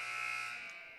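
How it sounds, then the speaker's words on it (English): A final buzzer sounds at a girls' varsity basketball game, a steady electronic tone held for most of a second and then fading under gym ambience. "And there's the final buzzer."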